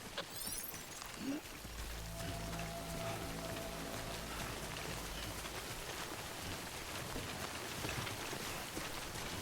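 Continuous rain pours in the video game Death Stranding, a dense, fairly quiet hiss of drops with a low droning tone under it for a few seconds and no speech.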